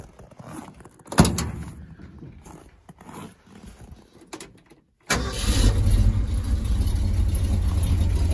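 A car engine fitted with a Comp cam cranks after a loud thump and a quiet stretch, catches abruptly, and settles into a loud, steady, lopey low idle close by.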